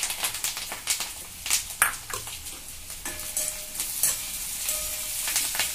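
Onion frying in hot oil for a dal khichdi tadka after garlic and curry leaves, a loud close sizzle broken by bursts of spattering and stirring clatter, with no talking.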